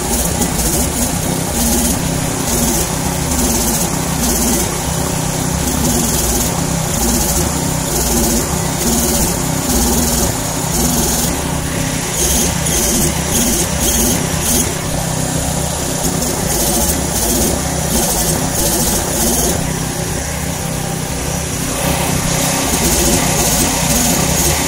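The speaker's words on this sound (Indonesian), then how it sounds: "suara knalpotnya ini ya sedikit bising gitu" A Tesla 160A 1000-watt welding generator set runs continuously with a noisy exhaust, a steady loud mid-pitched engine drone and pulsing rhythm throughout, heard up close.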